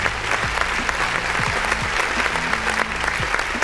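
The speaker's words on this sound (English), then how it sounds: "Let's freaking give that a big round of applause, man." A crowd breaks into a round of applause, dense steady clapping filling the whole stretch at close range, with a few voices calling out underneath.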